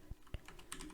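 Quick clicks of typing on a computer keyboard, a few distinct keystrokes followed by a faster run of lighter taps, close and quiet with no talk.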